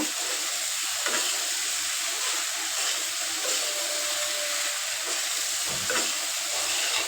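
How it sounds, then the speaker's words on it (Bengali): Pasta cooks in a pan with a steady close sizzle and hiss, with occasional stirring scrapes and clinks over the constant frying noise. "এখন হচ্ছে যে পাস্তা রান্না করতেছি"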